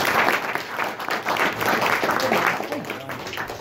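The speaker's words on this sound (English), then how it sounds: "But please join me in giving them a round of applause." At a voters forum for Princeton mayoral candidates, an audience claps in a steady round of applause for the candidates, with faint voices underneath.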